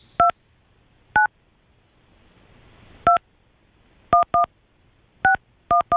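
Telephone keypad tones beep in irregular bursts, about eleven short two-tone presses: some alone, some in quick pairs or triples, with faint background hiss between them.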